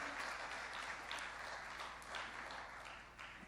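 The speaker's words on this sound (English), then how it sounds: "another round of applause for Mr. Dilo" A faint, distant round of applause from a forum audience for a speaker at an investment event, a steady crowd clapping with no talk over it.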